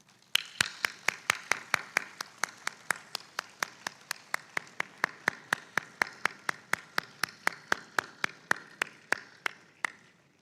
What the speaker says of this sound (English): once again rise and applaud the contribution of the Mohsineen